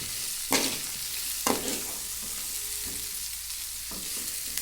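Food frying in a pan with a steady sizzle, broken by several bursts of scraping as it is stirred, close up.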